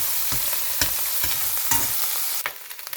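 Garlic, onion and butter with garden parsley sizzle in a hot pan, broken by several sharp stirring scrapes, before the frying hiss thins out near the end.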